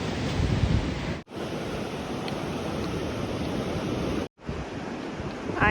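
Ocean surf rolls along an Oregon coast beach in a continuous broad roar with wind buffeting the microphone, broken by two brief cuts.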